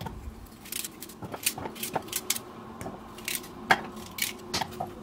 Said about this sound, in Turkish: 2 adet havucu halka şeklinde doğruyorum.